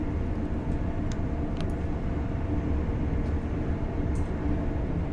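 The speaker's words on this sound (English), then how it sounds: "let's see if we can gradually bring the train to a stop. So, without slamming the brakes" A train in a train simulator game slows gradually toward a stop, a steady low rolling rumble with a few faint high squeals from the brakes or wheels.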